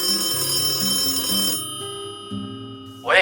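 Telephone ringing in repeated electronic tone bursts, clear and fairly close, pausing briefly between rings before a sudden noise at the end.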